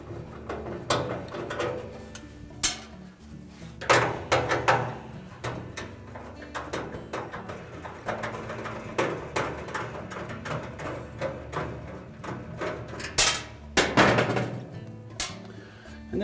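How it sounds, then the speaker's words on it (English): Two 5/16 hex head screws come out of the heater housing of a Whirlpool dryer, heard as scattered metallic clicks, ratcheting and clunks of tool and sheet metal at close range, with sharper knocks near the middle and end. "So just remove those two screws."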